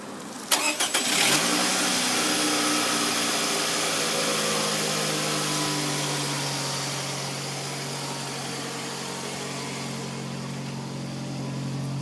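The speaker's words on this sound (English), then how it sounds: "giving you a quick little video of the startup of the vehicle." A vehicle engine cranks and catches with a sharp burst, then settles into a steady, fairly loud idle with a continuous low hum that holds on alone for the rest of the stretch.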